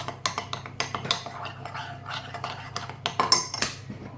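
Spoon clinking and scraping against a large cup while hot chocolate mix is stirred with water, a quick irregular series of sharp clatters, close and fairly loud, with no talk.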